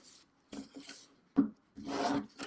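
A bone folder or tool rubbed firmly along a folded paper score line while making a mini album page, giving a few short dry scraping strokes close up with brief pauses between them.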